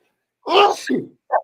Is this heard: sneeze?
yes